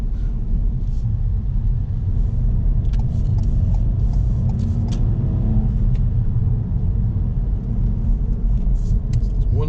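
Car driving on a road through Winchester while changing lanes, a steady close engine and road rumble from inside the cabin, loud and even throughout.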